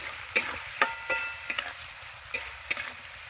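Spice masala being sautéed with a little water for a milk-based vegetable dish, a low sizzle broken by about eight sharp scraping stirs of a spatula in the pan, close and without talk.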